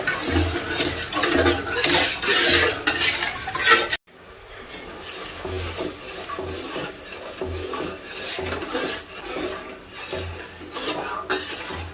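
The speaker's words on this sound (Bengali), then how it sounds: "ওর মধ্যে দুটো এলাচ দিয়ে দেবো, দিয়ে একটা চিনিটা ফুটিয়ে নেব" Sugar syrup with cardamom boils in a pan on a gas stove, giving a loud, steady bubbling rush with occasional clinks of a utensil against the pan that briefly quiet midway and then continue.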